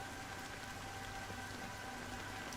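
Steady rain in the video game Honkai Star Rail, a constant soft hiss of falling drops with faint tonal hum beneath, even and unbroken throughout with no voices.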